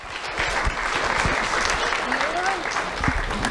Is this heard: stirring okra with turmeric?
no